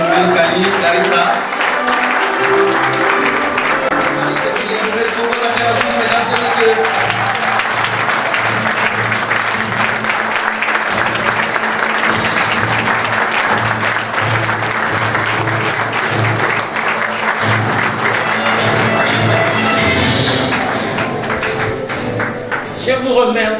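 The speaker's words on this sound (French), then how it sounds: "Une fois de plus, vos acclamations, mesdames et messieurs" Loud, sustained applause from the guests at a civil wedding ceremony fills the whole stretch evenly, with a few louder claps and taps standing out and voices faintly mixed in beneath.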